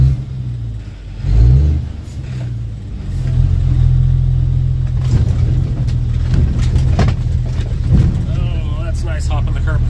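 A truck loaded with dirt pulls in to a garage pad build site, its engine rumbling loud and close, swelling as it revs, with voices talking over it.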